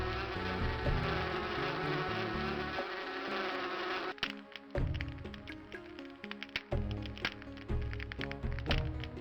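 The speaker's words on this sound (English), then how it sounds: "Fly away, little bees." Bees buzz in the video game Inherit the Earth, a steady droning hum layered over game music, with sharper clicks and knocks cutting in during the second half.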